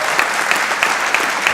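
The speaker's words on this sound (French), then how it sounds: "une bonne main d'applaudissement pour Michel Lamonté sur le stage" Steady crowd applause at a martial arts event as an honoured guest is welcomed to the stage, a dense wash of clapping with a faint rhythmic beat of unison claps.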